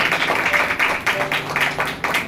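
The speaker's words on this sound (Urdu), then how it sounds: "کیا آپ تالی بجا سکتے ہیں اس بات کے لیے؟" A church congregation claps together in a dense, even wash of applause, moderately loud and continuous, during a Father's Day sermon.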